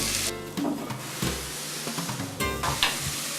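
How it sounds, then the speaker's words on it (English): Vegetables sizzle in a covered pot while cooking toward tender, a steady close crackling hiss with occasional louder bursts and stirring noises, no voices heard. "Serious sizzling going on here."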